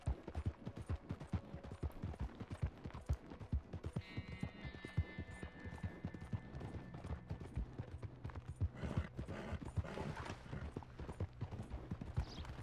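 Horse hooves clip-clopping in Red Dead Redemption 2, a steady rapid trotting rhythm, fairly close and quiet, with faint tack and mechanical jingle and a brief tonal ring partway through.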